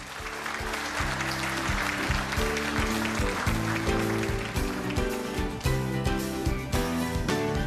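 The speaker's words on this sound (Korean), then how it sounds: "이윤정, 전우빈, 오준수, 황노아, 백은하 어린이에게 다시 한번 뜨거운 박수 부탁드립니다" An audience at a Disability Day ceremony gives warm, sustained applause for the young readers, a dense steady patter of many hands under music, fairly loud throughout.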